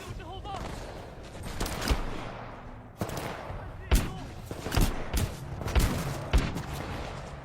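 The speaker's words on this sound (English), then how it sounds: "I just got shot by an assault rifle." Assault rifle gunfire in a video game crackles in repeated sharp bursts and single cracks, some loud and close, over a busy backdrop where a person talks.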